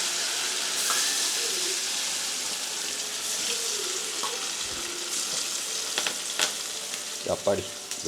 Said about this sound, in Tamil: எண்ணெய் சூடாகிட்டு இந்த மீனை போட வேண்டியதான்